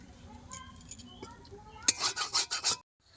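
Mustard flowers, mixed with a little raw mustard, are ground on a flat grinding stone: soft scattered scrapes first, then a burst of five or six rhythmic rasping strokes up close before a sudden stop.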